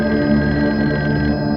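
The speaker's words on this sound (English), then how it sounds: "we get the phone call in the middle of the night" A telephone bell rings steadily and loudly at night, a continuous trilling ring that fills the short moment with no voices over it.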